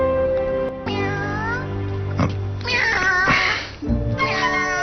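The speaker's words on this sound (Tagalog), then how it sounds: "may pusa ka pala?" A cat meows repeatedly in a series of drawn-out, wavering cries, close and fairly loud, with brief pauses between calls and no talking over them.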